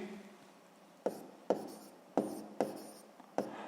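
A pen writes a math solution by hand on paper, making a series of soft scratchy strokes and taps, about six distinct bursts, close and quiet.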